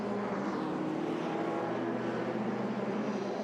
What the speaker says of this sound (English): So there is the safety car, and they're the top 3 cars into the picture now